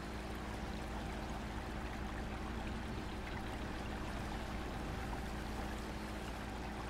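River water in the off-road driving game Spintires: MudRunner rushes as a steady, continuous wash with no break and no voices.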